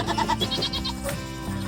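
A small Nigerian Dwarf goat on a farm bleats in a few wavering, nasal calls close by, with faint background noise and no clear talk.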